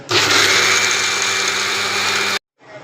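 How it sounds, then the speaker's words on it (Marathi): A mixer grinder whirs loudly and steadily as it grinds soaked dal with a little water for dal vada, then cuts off abruptly after about two seconds. "आता पण ही डाळ आहे ना जाडसरसी मिक्सरला थोडं थोडं पाणी टाकून"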